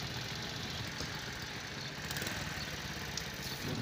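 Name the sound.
motorcycle engine idling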